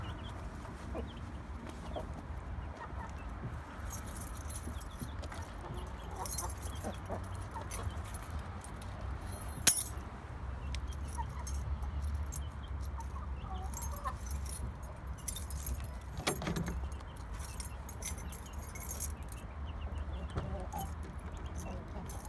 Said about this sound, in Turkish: Normalde kapıyı açtığınız gibi horozun sesini duyuyorsunuz.